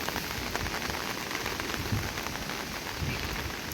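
Steady rain patters densely on surfaces beside a swollen, muddy river in the Konkan, a continuous hiss with no voices.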